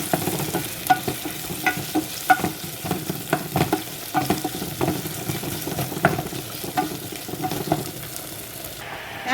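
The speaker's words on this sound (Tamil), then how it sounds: "எல்லாத்தையும் போட்டு வதங்க விடுவோம்." Curry leaves, fenugreek and dried fish sizzle and fry in a pan while being stirred, with repeated scraping strokes of the spoon over a steady crackle. Close and fairly loud, with no voices.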